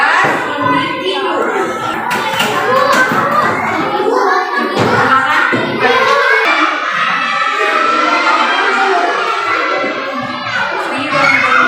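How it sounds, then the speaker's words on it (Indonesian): Children clapping together in a noisy primary school classroom, rhythmic bursts of hand claps mixed with kids' chatter and shouts. "Sekali lagi tepuk puja buat kelompok 2"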